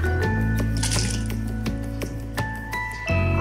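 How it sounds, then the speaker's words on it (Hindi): Several wet plops and splashes as raw mango pieces drop one after another into 4 to 5 cups of water, with faint clinks of a pot in between. "अब जो है 4 से 5 कप पानी में हम कैरी ऐड कर देंगे"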